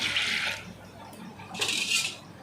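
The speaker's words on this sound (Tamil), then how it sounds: "அதே ஆளாக்கில் நான் தண்ணி ஊற்றுறேன்" Water pours into a container of ground idli rice batter in two short bursts of hissy splashing, with a brief pause between them and faint clinks in the background.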